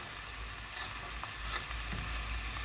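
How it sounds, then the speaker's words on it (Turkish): Chopped sweet peppers and hot peppers sizzle and fry on top of onions in a pan, a steady close hiss running throughout, with no talking. "Soğan üzerine bunları biberlerimi ekledim. Şimdi şu şekilde karıştırayım arkadaşlar."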